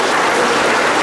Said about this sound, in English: Why don't we give a big hand of applause for Ilomas?